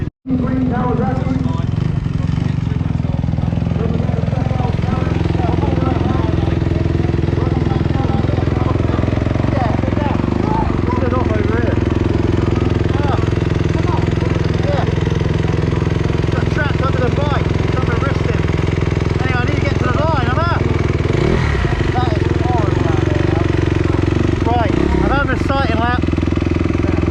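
Motocross motorcycles, Honda and Kawasaki among them, lap a track at a reunion event at Culham Park, a continuous drone of engines with rising and falling revs, mostly at a distance, under ongoing talk.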